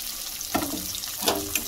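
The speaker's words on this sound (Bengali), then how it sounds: "এটাকে একটু ভালোভাবে ভেজে নেব। এটা ভাজা হতে থাক" Capsicum, onion and green chilli frying together in a pan with garlic, a steady low sizzle broken by two brief louder clatters of stirring, no talking.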